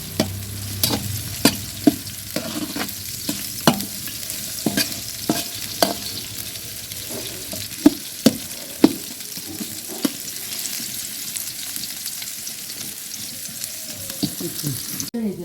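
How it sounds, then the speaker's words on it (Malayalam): Onions sautéing in rice bran oil keep up a steady sizzle, while a spoon or spatula scrapes and taps the pan repeatedly in an irregular rhythm close by. "ഉള്ളിയൊക്കെ വഴറ്റിക്കൊണ്ടിരിക്കുകയാണ്"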